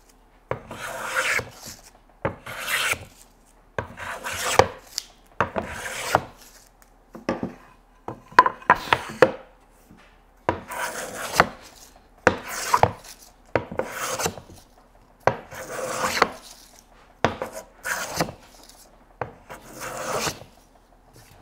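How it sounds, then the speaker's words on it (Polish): A hand plane shaving wood, pushed at a slight angle, in a steady run of about a dozen rasping strokes with short pauses between, close and clear with no voices. "Więc śmiało możemy strugać lekko pod kątem."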